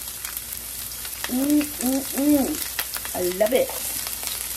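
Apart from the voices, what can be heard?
onion sizzling in a pan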